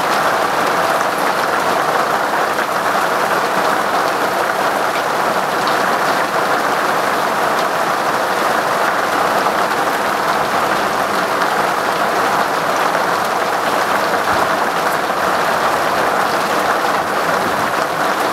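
Heavy rain pours steadily on Teslin Lake in the Yukon during a thunderstorm, a dense, unbroken hiss close by with no thunder rising above it and no voices.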